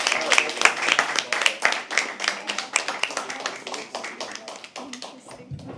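A crowd at a live poetry open mic applauds after a performance, with sharp, close hand claps that start dense and loud, then thin out and fade near the end.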